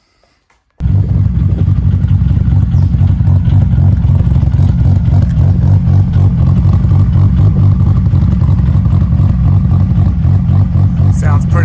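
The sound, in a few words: Nissan S15 Silvia engine revving with wheel spin on the dyno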